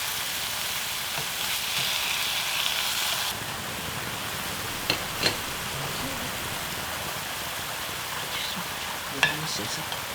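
Beef bulgogi frying on a gas stove over high heat, a steady dense sizzle with a few faint clinks and stirring sounds on top.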